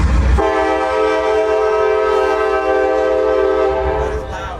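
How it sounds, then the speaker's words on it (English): A loud, steady train horn blares for several seconds, a sustained chord-like tone that fades slightly at the end. "Choo-choo train."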